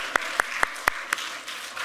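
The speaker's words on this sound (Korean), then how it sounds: "우리 큰 박수로 환영하겠습니다" A handful of sharp, evenly spaced hand claps ring out in a church service, five distinct slaps at a steady pace over a quiet room, with the clapping thinning to faint patter by the end.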